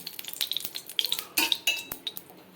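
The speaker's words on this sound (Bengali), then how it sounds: "এখানে সর্ষের তেল দিয়ে দিচ্ছি" Mustard oil goes into a hot wok for aloo posto, with clinks and scraping of a utensil against the pan and a light sizzle, close and brief.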